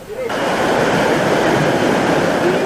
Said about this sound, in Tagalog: Rumagasa ang mga tubig hanggang sa mga bahay.